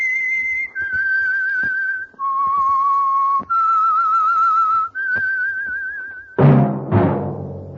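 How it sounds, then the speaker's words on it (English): A lone whistler plays the signature tune of the Signal Oil Program's The Whistler radio show, a clear melody of sustained notes that steps between pitches. A brief louder musical burst follows at the end. "That whistle is your signal for the Signal Oil Program, The Whistler."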